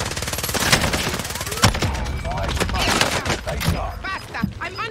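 Rapid bursts of automatic gunfire in the Warzone battle royale video game, loud, dense rattling shots and impacts with a voice speaking in the mix.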